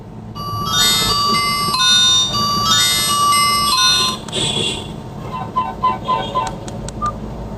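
A Nokia 105 Plus feature phone plays a bright electronic ringtone melody of repeated tonal notes for several seconds. It then breaks into shorter, sparser beeps and chimes, sounding alone with no talk over it.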